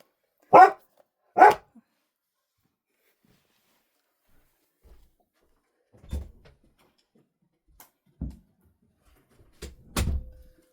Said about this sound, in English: He saw a dog out the window and he insists on barking at everything